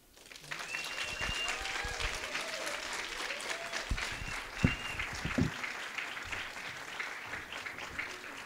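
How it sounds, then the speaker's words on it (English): Audience applause with some cheering fills a lecture hall as a staff award winner, an assistant athletic trainer, is announced at a wellbeing speaker series; steady clapping throughout with a few louder whoops near the middle, and some voices mixed in. "Alyssa brought a cheering section along with her"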